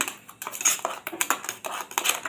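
A spoon briskly mixing yogurt with baking soda and baking powder in a bowl, quick repeated clinks and scrapes in an uneven rhythm, close and alone.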